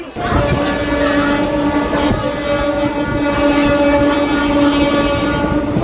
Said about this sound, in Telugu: ఆహా, ఏమన్నా కొట్టిందో హార్న్